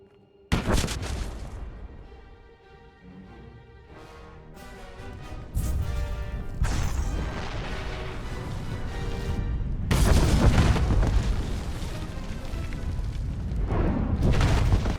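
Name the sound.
bomb explosion in a video game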